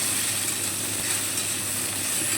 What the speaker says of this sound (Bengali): আলু এবং ফুলকপিটা তেলের মধ্যে একটু নেড়ে চেড়ে নিচ্ছি।